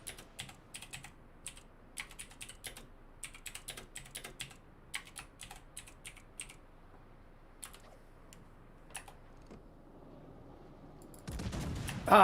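Computer keyboard keys clatter in quick irregular bursts of typing, close and fairly quiet, with pauses between flurries and a louder rustle at the very end.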